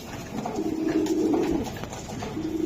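Black racing pigeons coo in a low, steady, throaty drone that runs continuously at close range, with no voices over it.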